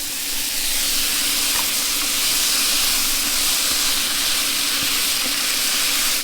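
Bacon frying for bacon and egg wraps at an outdoor camp setup, a loud, steady, broadband sizzle and hiss that holds for several seconds with a few faint pops and no voices.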